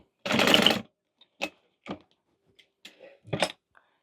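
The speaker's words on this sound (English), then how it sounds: "And then a back stitch right there." A sewing machine makes a short back stitch while sewing a waist pack: a dense burst of rapid mechanical stitching near the start, then a few sparse clicks and handling knocks in a quiet room.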